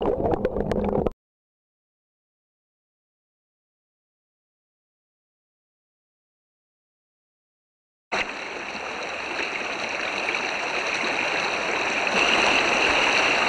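Creek water in central Pennsylvania trout country flows with a steady, close rushing wash. It follows a brief burst of sound and a long silent gap, with no voices over it.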